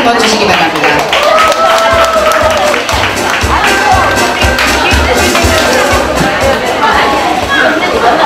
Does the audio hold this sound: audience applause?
yes